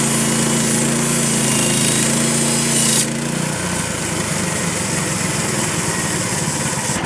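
A Frontier OS27 sawmill cutting a 21-inch red oak cant runs as a loud, steady engine drone with a high whining blade, shifting pitch partway through as the cut finishes, heard alone without talk.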